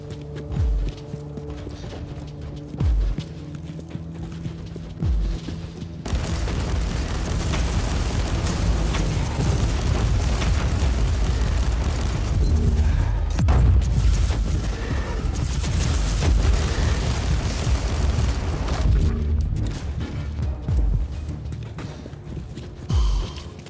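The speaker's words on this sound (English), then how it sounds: "The Marauder bombers are launching a second wave of bombardments." Marauder bombers pound the ground in Warhammer 40,000: Inquisitor – Martyr, a sustained roar of distant explosions and rumbling impacts that swells after a quieter opening and holds loud, with a thumping low rumble throughout.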